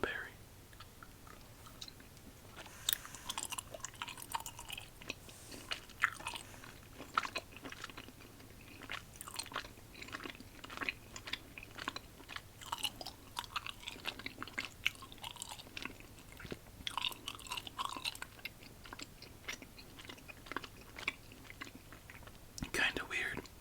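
Someone chews crunchy lime and strawberry Christmas candy close to the mic, with steady crunching and mouth sounds running for a long stretch and soft talk now and then.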